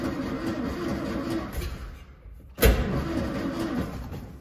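An old royal limousine engine, left sitting for 30 years, cranks and catches, followed by a short sharp burst as it fires and settles into a rough, uneven idle, heard close with no talk.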